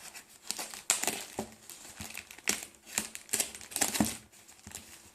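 A plastic bag crinkles and rustles while an E3D 3D-printer parts package is unboxed, with irregular close crackles and sharp crunches coming in bursts.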